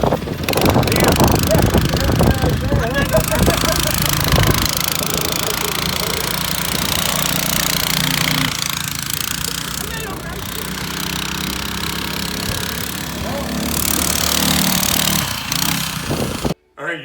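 A small motorized drift trike engine revs hard and buzzes unevenly as the trike spins a donut, loud and rough throughout, with people talking and shouting over it.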